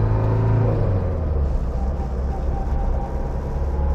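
A 1979 Mercedes W123 240D diesel drives along, its big engine giving a steady, loud, truck-like low rumble and drone from inside the car, with a lower hum easing off early on and no talk.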